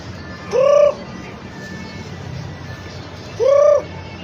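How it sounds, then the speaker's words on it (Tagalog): Pet birds give two short cooing calls about three seconds apart, clear and close over quiet background. "Mga ibon ko."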